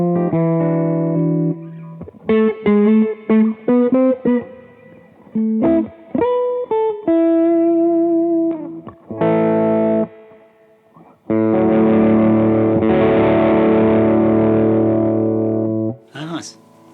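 Electric guitar played through an Eventide H9 pedal's gritty, overdriven pre-distortion preset: choppy chords and short riffs, then a long sustained fuzzy chord ringing out loudly.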